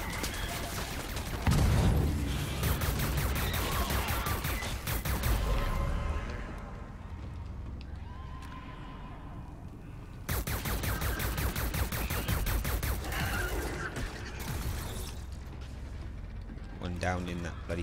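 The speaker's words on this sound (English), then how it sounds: "Grenade!" Grenade explosions and heavy gunfire in Far Cry 5's Lost on Mars DLC, a loud sustained barrage of blasts and rapid shots that swells, dips briefly, then resumes at full intensity.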